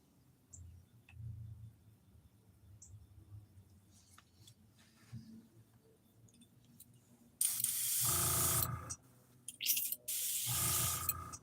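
Aerosol spray paint hisses out in two loud sustained bursts toward the end, fluorescent green being sprayed onto a head, after several seconds of quiet handling noise.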